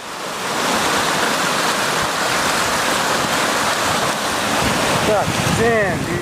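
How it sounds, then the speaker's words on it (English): Loud, continuous roar of rushing, churning floodwater waves after flooding in New Mexico, with heavy wind buffeting, steady throughout, with a few brief tonal squeaks near the end. "These waves form when water collides with an obstacle or due to specific features of the seabed."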